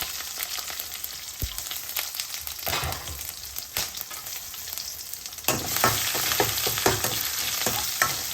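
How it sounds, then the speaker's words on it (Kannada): Mustard seeds and cumin sizzle steadily in hot oil, a dense, close crackle with scattered pops that grows louder partway through as more spice hits the pan. "ಎಣ್ಣೆ ಕಾದ್ಮೇಲೆ ಸ್ವಲ್ಪ ಸಾಸಿವೆ ಹಾಗೆ ಸ್ವಲ್ಪ ಜೀರಿಗೆ ಹಾಕ್ತಾ ಇದ್ದೀನಿ"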